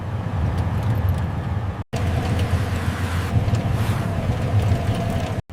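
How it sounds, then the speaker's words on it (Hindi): An auto rickshaw engine that is overdue for an oil change runs noisily and steadily, a rough low drone with wind buffeting, interrupted by a couple of abrupt cuts. "आज तो इंजन आवाज दे रहा है।"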